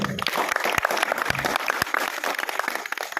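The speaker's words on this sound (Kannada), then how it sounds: "ಬರಲಿ ಜೋರದ ಚಪ್ಪಾಳೆ" Audience clapping loudly and steadily after a dance performance at an agricultural education event, dense applause filling the whole moment with no voices over it.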